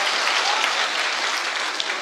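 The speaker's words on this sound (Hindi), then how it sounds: "आप लोग अगर तालियां बजा रहे हैं तो मिलके बजाते हैं एक बार अब्बास साहब के लिए" An audience claps in dense, steady applause at a Hindi poetry recital, the kavi sammelan crowd loud and continuous from start to finish with no break.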